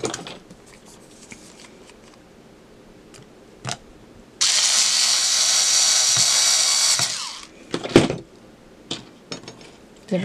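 A power screwdriver whirs steadily for about three seconds while driving the back screws into a customized Blythe doll, framed by quieter handling clicks and knocks before and after.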